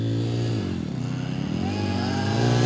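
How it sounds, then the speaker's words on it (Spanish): Motocross motorcycle racing a radio-controlled car, an engine droning and revving up and down in pitch at close range, heard without talk. "Mi moto conducida por Sad versus el coche radiocontrol."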